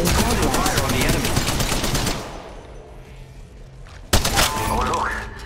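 Bursts of automatic gunfire in Apex Legends Mobile rattle loudly for about two seconds, then after a quieter pause a sharp shot cracks out, with voices heard during the fight.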